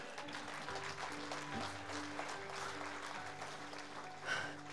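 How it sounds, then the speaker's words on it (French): Faint, steady applause from a church congregation, continuous soft clapping heard at a distance with a low background hum and a brief louder burst near the end. "Et tu peux applaudir à Jésus."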